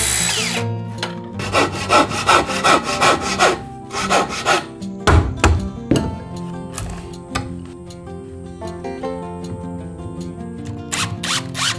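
A hand saw cuts through wooden studs for a stair pony wall in a run of rhythmic, close rasping strokes, each one a sharp burst, with a pause and a few scattered strokes near the end.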